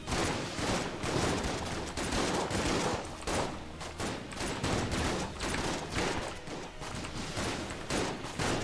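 Rapid shotgun blasts from the game Enter the Gungeon pound out in a dense, continuous stream of loud, evenly spaced shots, with no pause across the whole stretch.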